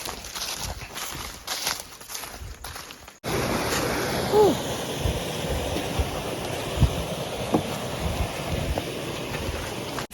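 Rushing water of a waterfall in a Ghanaian village, a loud steady roar filling the scene, preceded by a few seconds of rustling, footstep-like movement before the continuous water noise takes over.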